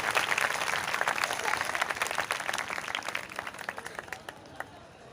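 A crowd at a Catholic church school event claps together. The applause starts dense and full, then thins into scattered individual claps as it fades out, heard at a moderate distance.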